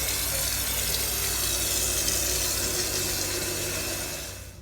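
Water running steadily from a tap or hose into a bucket of Tuff Coat coating mix, a loud continuous rushing splash that holds evenly and then tapers off at the end, with no talk.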